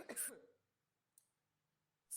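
A single harsh cough bursts out at the start during an English grammar lesson, followed by quiet, then two brief sharp clicks or breaths, one midway and one at the end.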